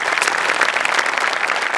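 An audience claps for a stage comedy performance, with brisk, dense applause that stays loud and even for the whole short stretch, close and unbroken.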